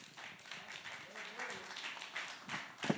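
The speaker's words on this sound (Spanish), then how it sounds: "Dale un aplauso al Señor" Church congregation clapping in praise during a Christian discipleship class, with scattered, moderate applause mixed with voices and murmuring, ending in a few sharper claps.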